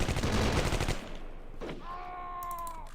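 Rapid gunfire crackles in a Close Combat Cross of Iron Eastern Front battle, a dense burst of shots for about a second, then a single sharp report followed by a sustained ringing tone.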